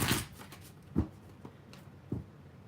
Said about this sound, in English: Okay, couple ruffle shuffles,